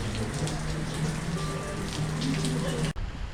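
Heavy rain pours down in Rabat, a dense, steady patter and splash on nearby surfaces throughout, with a faint voice in the background.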